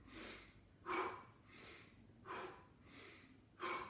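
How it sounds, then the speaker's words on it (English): Deep breathing exercise with slow rhythmic breaths, alternating softer airy inhales and sharper, stronger nasal exhales, six breaths in a steady cycle, close and quiet with no speech. "have a deep breath and hold, squeeze it even harder, and relax on exhalation"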